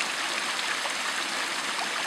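A mountain stream near the source of a creek by a road rushes in a steady, dense, hissing flow, fairly loud and close, with no voices.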